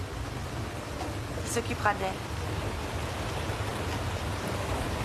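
Steady rain falls in winter, a constant broadband hiss through the whole stretch, with a brief spoken line and a few faint voice traces over it.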